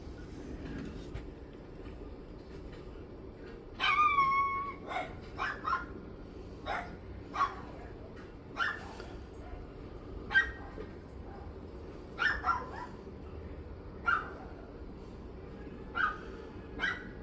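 Neighbor's dogs bark in a series of sharp, scattered barks, some in quick clusters, at moderate distance over a quiet low background hum.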